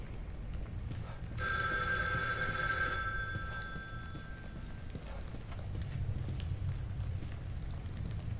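An old telephone rings in the horror video game The Evil Within 2, a bright bell ring of about a second and a half standing out near the listener over a low, rumbling ambient drone that carries on after the ringing stops.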